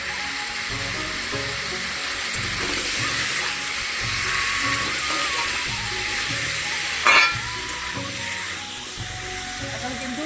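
Spices, salt and turmeric sautéing in a home kitchen pan give off a continuous close sizzle and hiss, with a brief sharp scrape of stirring near the end.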